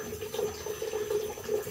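Water drains steadily from the gas control of a Bradford White gas water heater, a continuous soft trickling and gurgling flow, close and even throughout.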